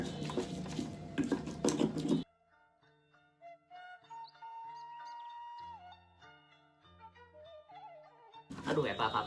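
Fried shrimp-paste sambal is crushed and stirred in a pan, giving bursts of gritty scraping and clattering at the start and end, with a quieter stretch of tonal background sound and a voice between them.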